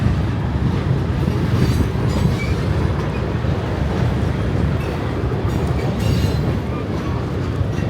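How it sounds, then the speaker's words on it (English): A long freight train rolls past up close, a steady rumbling roar with rail clatter and faint wheel squeal that never lets up. "Oh, this train's still going."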